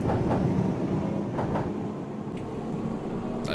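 Glasgow Subway train running the Inner Circle in the Metro Simulator game, a continuous rolling rumble with rhythmic clickety-clack wheel beats and a brief squeal near the end.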